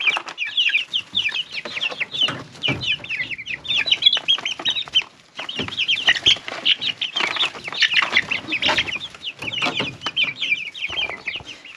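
Chickens clucking and calling continuously at close range, dense overlapping clucks with occasional wing flapping, no talk.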